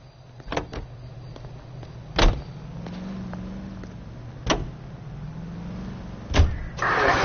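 In L.A. Noire, a car door thumps shut a few times over a low idling engine hum, which rises as the engine revs and the car sets off.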